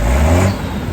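A Mercedes MB-trac tractor engine revs up loudly and close by in a short burst, then settles back toward idle.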